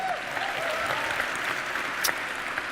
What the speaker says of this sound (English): See, you did it again. You clapped for yourself.